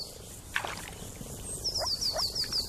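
Moor frogs croak from a pond in a German green-belt wetland, a few soft gurgling calls close by mixed with high bird chirps in the background, no voices.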